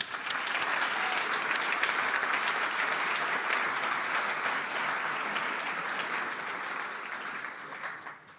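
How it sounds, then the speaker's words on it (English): An audience at a startup event applauds steadily, a dense and sustained wash of clapping that fades slightly toward the end, with no voices over it. "I'd like you all to give a round of applause."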